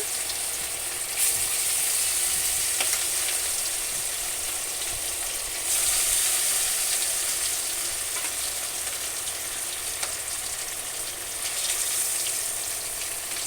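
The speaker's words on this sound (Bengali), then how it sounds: "এবার আমি মাছগুলো একে একে কড়াইয়ের মধ্যে দিয়ে দিচ্ছি" Pieces of catla fish frying in hot oil in a wok, a steady dense sizzle that flares louder as each piece goes in, running continuously with no talk.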